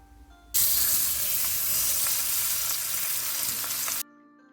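Masala-coated fish pieces sizzle loudly in hot vegetable oil, a sudden burst of dense frying that starts as they hit the pan and continues steadily for a few seconds before cutting off, with no talking.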